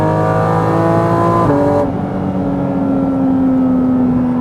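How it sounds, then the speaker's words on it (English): A Porsche Cayman GT4 RS engine revs loud and close, the pitch dropping as it settles into a deep, steady idle-like drone. "It is unreal how good this car sounds."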